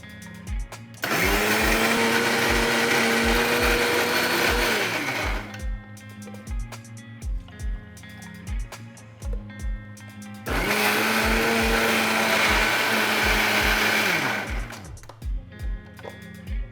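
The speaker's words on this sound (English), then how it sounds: "Now let's grind this to a fine paste." A mixer grinder whirs loudly while grinding masala with turmeric and raw rice into paste, running in two bursts of about four seconds each, with quieter motor pauses and clicks between them.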